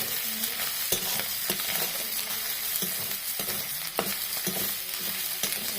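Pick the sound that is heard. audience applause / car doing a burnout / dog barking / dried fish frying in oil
dried fish frying in oil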